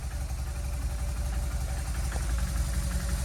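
A 2009 BMW R1200RT-P police motorcycle engine idles steadily and close after a clutch replacement, with a low, even mechanical throb running through the whole stretch without talk.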